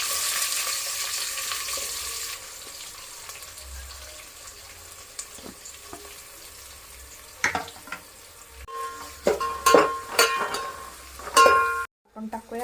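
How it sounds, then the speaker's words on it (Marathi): Onion frying in a pan with whole spices for egg biryani, starting as a soft hiss that swells into louder sizzling, with stirring clatter and a few sharp knocks in the second half. "आता आपण कांदा टाकूया"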